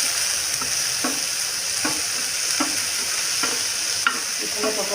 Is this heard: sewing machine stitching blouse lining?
no